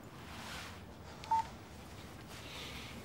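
A single short electronic telephone tone rings out briefly and fairly clearly over a quiet indoor background, with no talking.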